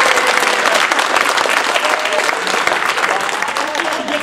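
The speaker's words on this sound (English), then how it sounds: "round of applause for Andy" A Toastmasters speech contest audience, at the District 30 Northeast Division spring contest, breaks into dense, steady applause that fills the whole stretch at an even, close level before fading only slightly toward the end.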